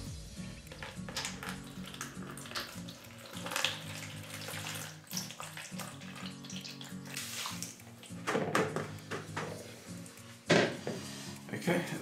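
Water is poured into a bowl on a kitchen scale while making three seed bread with poolish, with splashing and clinking of the bowl in between.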